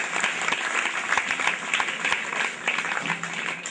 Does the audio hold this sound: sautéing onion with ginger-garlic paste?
no